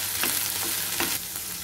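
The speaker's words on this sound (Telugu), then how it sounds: "బెండకాయ ముక్కలు మనకు ఇలా బాగా వేగిపోతూ ఉన్నాయి" Okra pieces frying in a pan give a dense, continuous sizzle with a few soft stirring scrapes, close and steady throughout.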